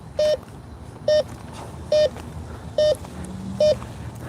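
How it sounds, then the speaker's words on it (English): Short electronic beeps from a Bounty Hunter Tracker IV metal detector passing over rebar repeat at an even pace, five in a row, over a steady outdoor background hiss. "you're gonna hear the sound of the rebar being returned"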